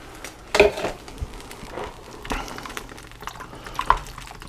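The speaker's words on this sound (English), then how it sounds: "I'm adding another cup of water just to bring that volume up a little bit." A cup of water is poured into a pot of Manhattan clam chowder, giving a short splash followed by faint trickling and dripping, close and fairly quiet.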